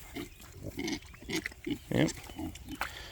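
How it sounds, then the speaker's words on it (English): Young pigs grunting near the microphone, a series of short rhythmic grunts and snorts with one louder squeal-like grunt, with a person briefly speaking. "This is kind of the boss pig right here."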